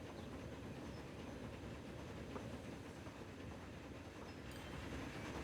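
A train in a building video game runs at turbo speed, giving a steady, faint rolling rumble with light clickety-clack and no breaks in the sound.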